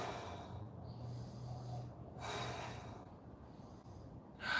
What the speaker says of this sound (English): Big inhales and exhales.